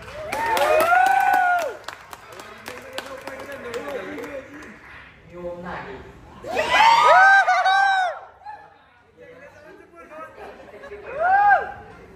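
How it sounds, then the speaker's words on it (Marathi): Applause and cheering greet guests arriving at a school-themed launch party, with bursts of clapping rising over lively crowd chatter and overlapping voices, swelling several times and fading between. "टाळ्या स्वागत करायचं पण."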